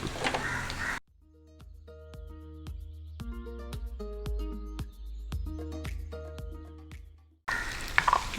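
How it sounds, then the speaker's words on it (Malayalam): Curry leaves and shallots tempering in hot oil for a shark curry, a sharp burst of popping and crackling that sputters on and off for several seconds, close and loud, with muffled speech before and after. "കരിവേപ്പിൻ്റെ ഇല ചീരുള്ളിയും വെച്ചിട്ടാണ് താളിച്ചെടുക്കുന്നത്"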